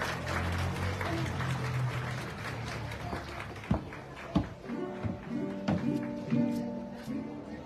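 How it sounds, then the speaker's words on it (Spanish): A crowd at the Xantolo carnival unveiling in Tempoal welcomes the outgoing carnival queen with applause, scattered clapping under ambient noise that thins into a few distinct, sharper claps toward the end. "Recibámosla con esos aplausos que se merecen."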